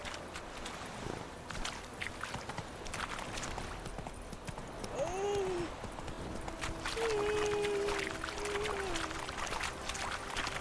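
Hoofbeats of Roach, the horse in The Witcher 3: Wild Hunt, galloping steadily over a game soundscape, with a brief tonal game sound partway through and no speech.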